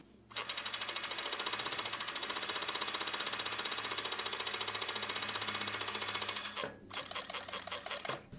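A flatlock sewing machine running with two needles as it stitches a T-shirt, producing a fast, even mechanical chatter that holds steady for about six seconds, then stops and restarts in short bursts, close and clear.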